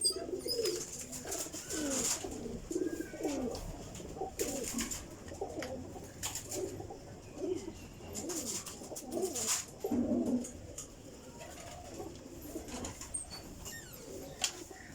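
Teddy breeder pigeons coo in repeated soft, throaty bursts, several birds overlapping close by in a quiet loft with faint clicks and rustles between calls.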